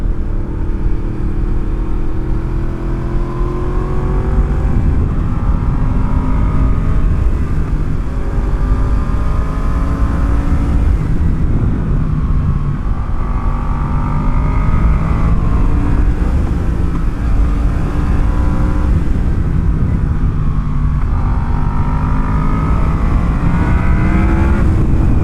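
A Yamaha MT-10 (FZ-10) motorcycle engine while riding, loud and close, revving up and down in repeated rising sweeps as the rider picks up pace, with wind rush throughout and no talk.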